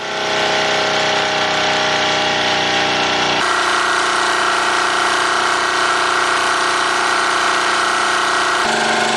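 A Wilesco D222 model steam engine runs on live steam, driving a Blue Thunder generator that lights a lamp, giving a loud, steady mechanical whir and hiss throughout with a shift in tone partway.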